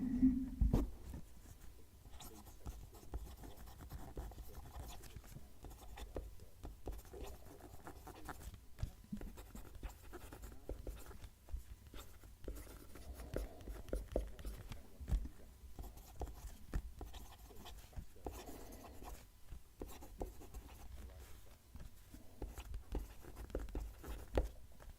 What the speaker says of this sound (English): Let's move the mic and write the sentence.